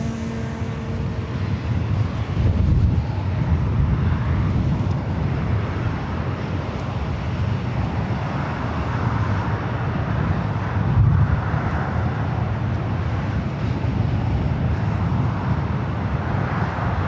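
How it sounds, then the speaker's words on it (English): A Lufthansa airliner arrives at LAX with a broad, steady low roar that holds at an even level throughout, mixed with outdoor wind and background noise. "There she is, the Lufthansa Queen, up next for arrival."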